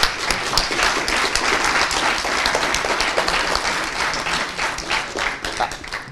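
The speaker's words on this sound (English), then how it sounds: "so big applause" A conference audience in a tech talk hall breaks into sustained applause, dense clapping that stays loud and even for several seconds before tapering slightly.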